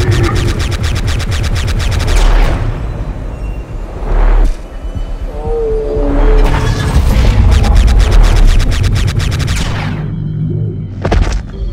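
Gunshot sound effects in an animated battle movie: repeated rapid-fire bursts and heavy booming blasts, loud and close, with brief pauses between volleys.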